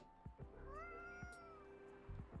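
A cat meows in the video game Coffee Talk, several drawn-out, rising and falling cries heard close and clear, with faint background music beneath and no talking.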